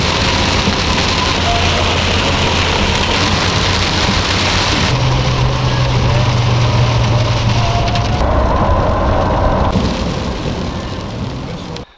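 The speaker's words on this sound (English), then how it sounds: "it's really raining now." Heavy rain drums on a truck driving along the Natchez Trace Parkway, a loud, constant roar with a low road rumble beneath, easing slightly near the end.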